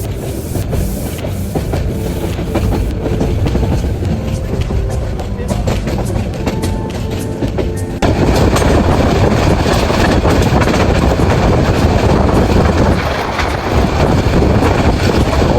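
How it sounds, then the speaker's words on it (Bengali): A train rolls into a railway station along the rails, a loud continuous rumble with rhythmic clacking of wheels and a swell of noise partway through. "9টার দিকে ট্রেন আসে।"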